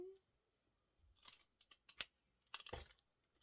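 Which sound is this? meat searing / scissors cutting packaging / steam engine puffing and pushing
scissors cutting packaging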